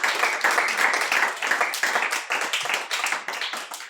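A church congregation claps together to acclaim Jesus, with dense, continuous applause and rapid overlapping claps filling the room throughout.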